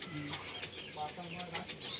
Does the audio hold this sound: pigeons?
yes